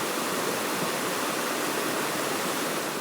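A mountain stream rushes steadily over rocks, a continuous broadband wash with no pauses, fairly close and even throughout.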